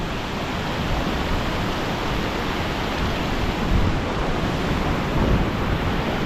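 Ocean surf surges against rock fishing ledges in Shark Bay, a steady loud roar of broken waves with swells building and washing through, with no voices.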